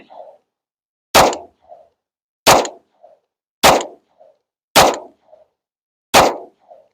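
Five loud, sharp pistol shots from a Canik TTI Combat handgun, spaced about 1.3 seconds apart in a steady rhythm, each followed by a faint short echo or ping from the target, with silence between shots.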